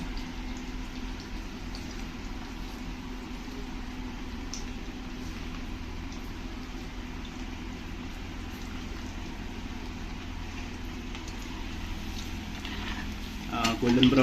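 Onion bhaji deep-fry in hot oil previously used for puris, giving a steady, even sizzle and bubbling at moderate volume that grows a little louder and busier near the end.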